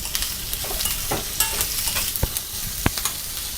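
Onion, dried red chilies and tamarind are sautéed in a hot pan, a dense, continuous sizzle with scattered spatula scrapes and stirring clicks close up, no voices.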